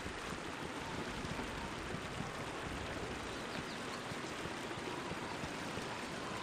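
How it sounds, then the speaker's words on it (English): Steady hissing rainfall in the video game Baldur's Gate, dense and continuous with fine pattering drops throughout, evenly loud with no voices. "Oh, it starts to rain."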